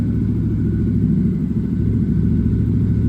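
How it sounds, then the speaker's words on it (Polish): A 2016 Yamaha WR 125X four-stroke motorcycle engine with an aftermarket exhaust idles close up, a steady low throbbing rumble with even pulses and no speech. "rozkoszować się tym pięknym dźwiękiem czterosuwa z fajnym układem wydechowym"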